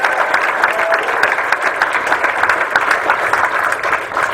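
Audience applause at a seminar, a dense, steady clapping that stays loud and even throughout.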